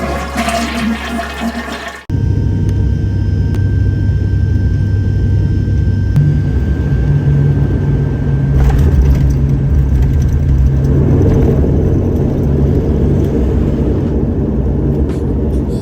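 A loud, steady engine roar fills a small aeroplane cabin as a British domestic flight lands, following a brief rushing whoosh at the start, with the drone swelling slightly partway through.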